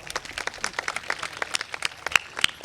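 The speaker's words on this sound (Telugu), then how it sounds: "మన బిషప్ గారికి అందరు గట్టిగా చప్పట్లు కొడదాం" A church congregation at a feast-day Mass claps for the bishop with scattered, fairly quiet handclaps, irregular and distinct rather than a full ovation.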